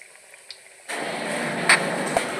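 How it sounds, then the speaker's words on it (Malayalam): Chicken rolls drop into hot oil. After a near-silent start, a sudden continuous sizzling hiss begins, with a few sharp pops on top. "നമ്മളത് വറുത്തെടുക്കുക."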